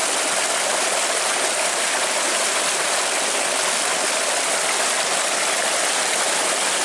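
A steady, loud rush of water gushes continuously from a solar-powered tube well cylinder pump with a 5-inch delivery pipe, a dense hiss with no pauses and no talking.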